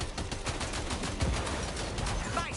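Gunfire in the video game Death Stranding 2: dense rapid bursts of automatic shots, loud and continuous throughout, with a heavier thump midway.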